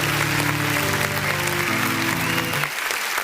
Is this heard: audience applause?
yes